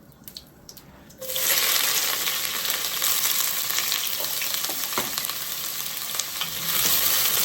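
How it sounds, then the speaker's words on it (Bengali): Dried red chilies hit hot oil in a pan with a sudden loud sizzle after a quiet second. The crackling frying hiss then carries on steadily and close, with small pops and stirring scrapes. "শুকনা মরিচা দিয়ে দিতেছি"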